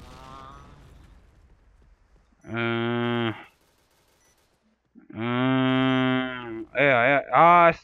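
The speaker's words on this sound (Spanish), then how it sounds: "Esa vaca quiere que la pisen." Cow mooing during an online Point Blank gaming session: one long, low moo, a pause, then a longer moo and two short wavering calls, all fairly loud and close. Faint talk and noise come before the first call.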